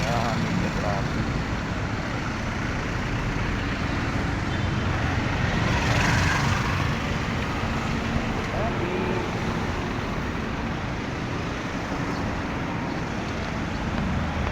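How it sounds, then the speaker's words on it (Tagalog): Steady roadway traffic on a street near a subdivision's City Lane in Lanuza, Quezon City, a continuous broadband wash of passing cars with a slightly louder swell midway, under occasional talk. "Maraming na traffic."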